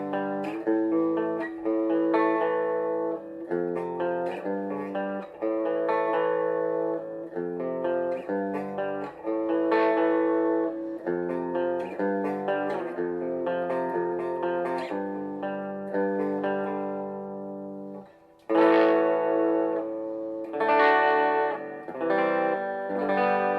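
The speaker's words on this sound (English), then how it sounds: "So right now, we're on the clean channel. We are using the spring reverb on it, so you guys can hear that." Electric guitar played on the bridge pickup through an Orange Crush Pro 60 amp's clean channel with spring reverb, a run of plucked notes and strummed chords ringing out with a reverb tail, moderately loud and alone.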